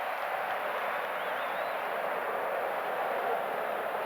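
Crowd in a basketball arena at the 1988 NBA All-Star Game, a dense continuous roar of cheering and applause, steady and fairly loud with no break.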